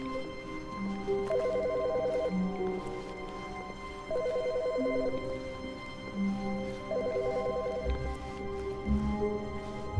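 A telephone rings in the video game The Stanley Parable, three short trilling rings spaced a few seconds apart over a humming ambient background.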